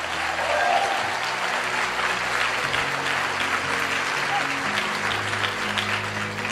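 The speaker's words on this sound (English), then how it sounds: "Give yourselves a round of applause." An audience at a motivational talk applauds in a sustained, even wash of clapping and crowd noise, with a low hum and faint voices mixed in beneath it.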